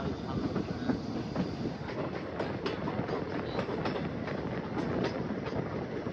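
A train rolling downhill on a remote Assam line, with a steady, dense rumble of wheels on track and repeated clickety-clack rail joints running throughout, fairly close and continuous.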